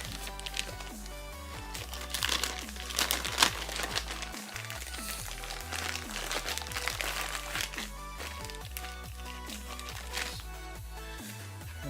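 Packaging around a car amplifier is handled up close, giving scattered crinkles, crackles and small knocks in an irregular stream under low background hum.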